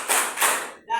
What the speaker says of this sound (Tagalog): bigyan natin siya ng 5 palakpak